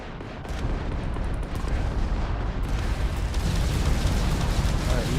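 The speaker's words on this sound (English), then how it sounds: "Why are you shooting me?" Spaceships trading gunfire in the game Starfield, with loud rumbling blasts and booming explosions that build into a dense, continuous roar of weapon fire.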